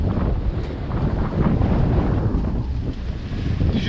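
A sailboat runs at about 6 knots off an island coast; steady, loud wind buffets the microphone over the continuous rush of waves along the hull.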